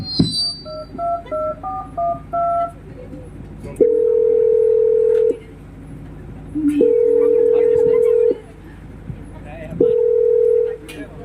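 A telephone is dialed with a short run of keypad tones, and then a steady dial tone sounds in three long bursts with pauses between them. Faint voices and room noise from a Christian skit sit underneath.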